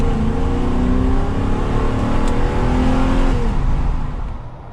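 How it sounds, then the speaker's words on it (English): A loud Porsche 928 V8 petrol engine revving steadily under load uphill, deep and rumbling throughout, fading slightly at the end as the revs drop. "Now that V8 sound caught you by surprise, didn't it?"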